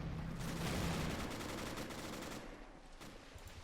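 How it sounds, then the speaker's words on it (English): Artillery shells striking around the player's tank in a WWII tank video game, a continuous roaring barrage of booming blasts and rumble, loud and dense with no talk. "What artillery is hitting me?"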